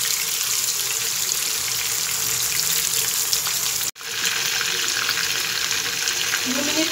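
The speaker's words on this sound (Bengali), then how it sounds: "মুরগিটা আস্তে আস্তে ভেজে দেব।" Chicken pieces frying slowly in oil on a stovetop, a steady loud sizzle running throughout with one brief dropout partway.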